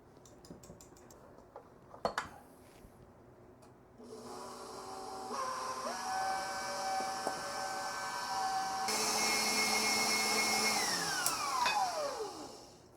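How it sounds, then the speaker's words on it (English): An electric mixer whisking batter for Finnish Shrove Tuesday baking, starting after a few clicks and clatters, then whirring steadily with rising and shifting motor tones before spinning down at the end, close and alone. "We'll keep whisking this until it's too difficult to whisk."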